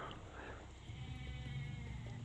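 Goats bleating in a Hades versus Poseidon strategy game match, a steady low-pitched game soundscape with animal bleats blending into continuous background sound, no talk.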